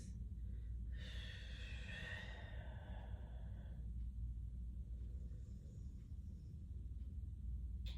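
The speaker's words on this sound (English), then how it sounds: "One more round with your own breath at your own pace." One long, audible exhale during a heart chakra yoga exercise, lasting about three seconds, over a steady low rumble in a quiet room.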